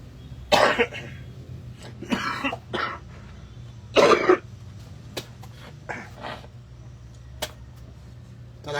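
Repeated coughs and throat clearing from one person during a casual livestream, loud and close, arriving in short bursts separated by quiet pauses with a low background hum.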